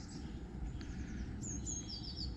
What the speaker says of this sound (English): Waking up to the bird song.